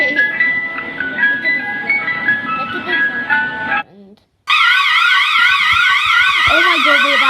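An ice cream truck jingle plays as a loud, steady warbling tune after a brief pause, preceded by a different melodic electronic tone sequence.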